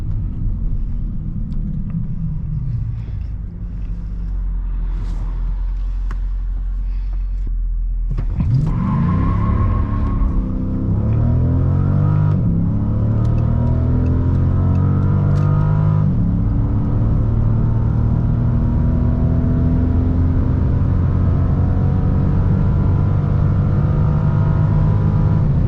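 A 2012 Dodge Charger SRT-8 idles with a deep rumble, then launches hard from a standstill, its engine roaring up through rising revs and gear changes into a loud, sustained, close drone on the autobahn.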